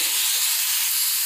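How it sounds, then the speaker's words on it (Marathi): Green chilies and tomatoes roast in oil, giving a loud, continuous broadband hiss and sizzle, close and steady across a brief moment with no talking. "आता हिरव्या मिरच्या आणि टोमॅटो चांगलं भाजून घ्यायचे, सगळ्यावरचे चांगलं उलटसुलट करत भाजून घ्यायचे"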